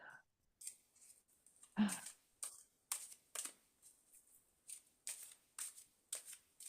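Tarot cards are shuffled by hand in rapid, crisp riffling bursts, each a short papery flutter repeating in an uneven rhythm, close and fairly quiet, with a brief soft voice near the start.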